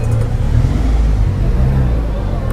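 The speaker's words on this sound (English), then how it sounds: "We got one of these Batmobiles." A rented Batmobile car rumbles and revs nearby at night, a loud, deep, continuous engine roar that holds steady for a couple of seconds.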